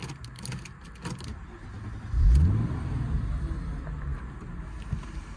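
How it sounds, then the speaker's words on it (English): A 2006 Chrysler Crossfire 3.2 V6 starts with a quick cranking whir and catches into a rising low roar, then settles into a smooth, steady idle, heard close with no talking. "Any excuse to show off that V6 sound."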